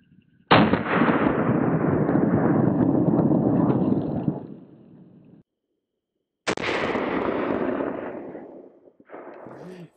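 A Smith & Wesson Performance Center revolver fires at a BulletSafe VP3 Level IIIA armor vest, a sharp, loud blast followed by a long booming echo that fades, then a second heavy report rolling out, with no talk.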